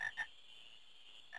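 Frogs croak in Final Fantasy IX, two quick close croaks, a stretch of quiet, then another starting at the end, with no voices.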